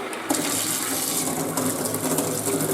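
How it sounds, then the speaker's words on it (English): Hot water gushes steadily from a tap into a newly replumbed sink in a French house, a close, continuous splashing rush that starts abruptly and runs alone with no talk. "hot running water."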